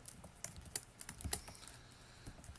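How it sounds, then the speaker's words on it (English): Steady typing on a computer keyboard while writing R code, a run of close, quiet key clicks with a few sharper taps, no voices. "but I'm already typing it"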